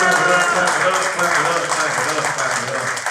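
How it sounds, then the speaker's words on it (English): An audience claps steadily through a hip-hop interview with rapper Bun B, a moderate continuous patter of hands that holds the whole time while voices murmur faintly underneath. "Big bars. Big bars. Clap it up."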